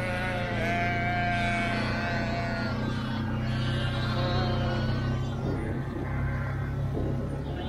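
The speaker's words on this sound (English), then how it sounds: "A lot of sheep." Sheep bleating across a farm field with three fields of flock, several animals calling in overlapping wavering cries over a steady low rumble, fairly close and continuous throughout.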